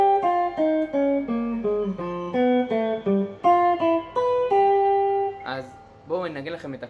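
Plucked guitar notes roll through a broken-chord pattern, each note ringing briefly in a steady rhythm before a few strummed notes close it out.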